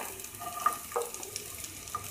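Sliced onion goes into hot oil in a pan for a cauliflower and potato curry, giving a faint, soft sizzle with a few light clinks and taps, quiet and with no one talking.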